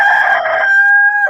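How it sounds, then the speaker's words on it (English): A single loud, close rooster crow rings out alone, one sustained cock-a-doodle-doo filling the short moment. "We're gonna play the rooster every time."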